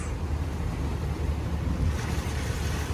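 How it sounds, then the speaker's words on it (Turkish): Storm-driven sea waves surge against a cargo ship anchored off Kuşadası, a steady low, rumbling wash with wind noise that persists evenly throughout, without any voices. "Gemiyi sarsıyor bu kadar dalga bile."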